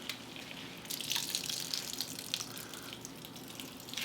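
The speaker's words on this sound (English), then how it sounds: "Squeeze out the water as best you can and throw it into a bowl." Water from grated cucumber squeezed out by hand into a bowl, a soft continuous trickle and splatter with faint drips, close and moderately quiet, no voices.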